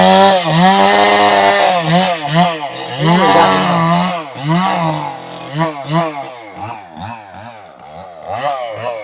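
A power tool cuts wood, its engine loud and close, revving and dipping in repeated surging waves throughout the clip.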